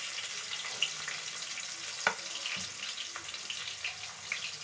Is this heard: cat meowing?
no